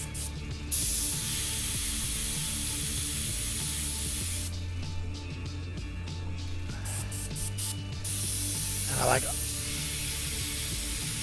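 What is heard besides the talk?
airbrush spraying paint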